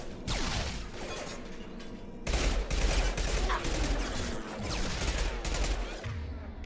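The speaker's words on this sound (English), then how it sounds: "Shoot them before they take out the shield." Dense bursts of automatic gunfire and heavy shots crackle almost continuously during combat in the video game Mass Effect 2, loud and close throughout.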